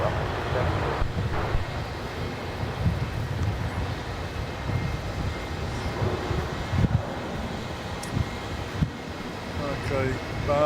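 An airliner rumbles on the runway at Melbourne Airport, a steady low roar of jet engines heard from a distance, with radio chatter and background noise mixed in.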